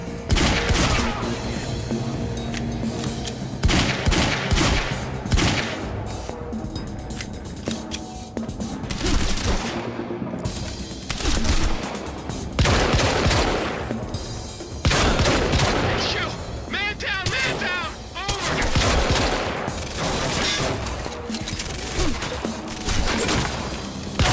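Bursts of gunfire crackle through a Quantum Break shootout: loud, repeated volleys and rapid automatic fire coming in waves over about twenty seconds, with shouted voices mixed in between shots.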